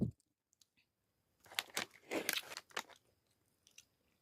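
Someone eating Picnic brand jelly, with soft crunching, biting and squishy chewing in several close bursts mid-clip, quiet otherwise.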